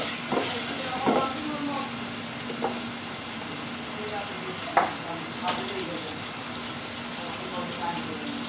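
Tomatoes go into a hot pan while fish cooks, a steady low sizzle of frying broken by a few sharp clinks and stirring knocks, moderately close, with no voice over it.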